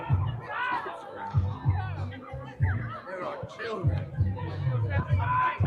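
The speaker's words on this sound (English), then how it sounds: "And you can hear the cheer there" A rugby crowd at a UAE Division One match between Al Ain Amblers and Abu Dhabi Harlequins chatters and cheers steadily throughout, with scattered laughter and voices blending into a continuous hubbub.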